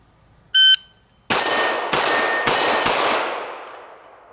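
Four loud pistol shots from a Canik SFx Rival ring out at an outdoor range, each with a sharp crack and long decaying echo, preceded by the short electronic beep of a shot timer.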